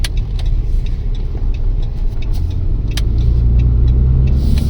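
A car on a test drive after brake work, with a steady low engine and road rumble from inside the cabin and scattered small clicks and rattles, the drone growing slightly heavier toward the end.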